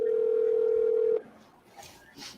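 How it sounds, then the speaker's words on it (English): A phone ringing: one steady electronic tone holds for about a second and then cuts off abruptly, leaving faint room noise and a few soft background sounds afterward. "We can hear his phone ringing, but he's not answering it."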